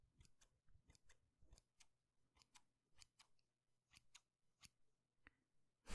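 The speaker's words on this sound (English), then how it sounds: "I've got my scissors here with me." Tiny scissors snipping close to the microphone in a quiet room during a haircut, a string of crisp, soft individual cuts at an irregular pace, with no talking.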